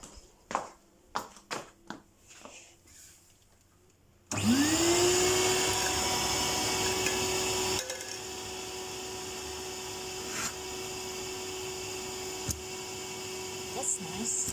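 Quick footsteps or knocks come first, then a household vacuum cleaner switches on with a loud, steady whining drone that drops slightly in pitch partway through and keeps running.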